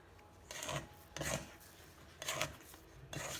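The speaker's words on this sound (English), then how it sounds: "scrape the sides and mix until the salt is completely dissolved." Sourdough levain bread dough being mixed with salt by hand, giving four short rasping, rubbing bursts of scraping and squishing at a steady rhythm, close and fairly quiet, with no talking.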